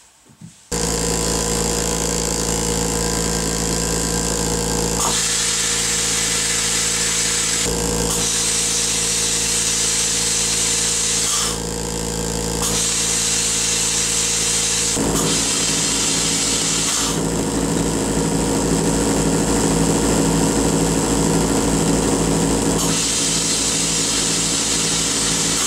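Homemade sandblasting rig for small parts runs on a test, a steady loud hissing and whirring drone that cuts out and restarts several times, with a pulsing mechanical rhythm in the later stretch and no voices.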